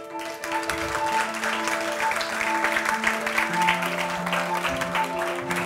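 A festival audience at the San Sebastián film festival breaks into sustained, loud applause welcoming the new directors, the clapping dense and continuous under a sustained musical tone.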